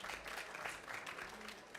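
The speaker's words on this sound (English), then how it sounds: "Alina, round of applause" Applause from a conference audience after an urban planning presentation, steady dense clapping throughout, fairly distant and quiet.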